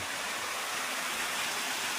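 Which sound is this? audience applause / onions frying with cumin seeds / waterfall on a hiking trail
waterfall on a hiking trail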